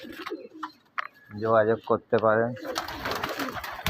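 Pigeons coo in two clear rolling bursts, loud and close, followed by a person speaking over the birds.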